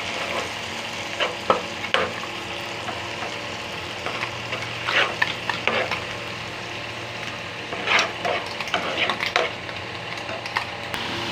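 Small fish frying with spice paste and a little salt in a pan, a steady close sizzle broken by scraping stirs of a spoon against the pan.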